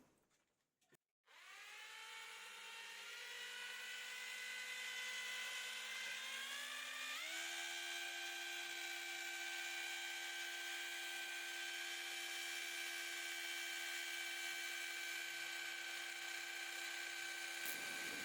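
Wine is whisked to drive off carbon dioxide: after a brief clatter, a whirring whine rises in pitch over several seconds, then holds a steady, continuous drone until it cuts off near the end.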